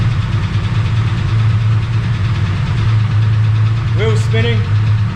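A drift car engine runs loud and close in gear with a rough, throbbing idle, and a brief voice cuts in near the end.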